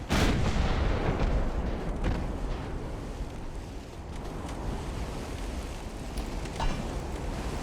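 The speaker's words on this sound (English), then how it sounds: "there's another heavy shot" Heavy naval gunfire from battleships in the Ultimate Admiral: Dreadnoughts game, set in 1902, opens with a loud booming blast that rolls into a sustained low rumble, like wind and surf, with a second fainter thud near the end.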